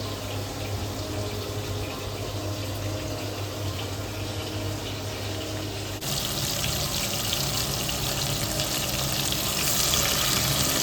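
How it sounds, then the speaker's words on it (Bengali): Chicken pieces frying in oil for a restaurant-style biryani, a steady dense sizzle that grows louder and brighter partway through, with no talking. "তারপরে আমরা ওই তেলেই আবার চিকেনগুলোকে একে একে দু সাইডে ভেজে নেব, দু সাইডে যেন ভালো কালার আসে।"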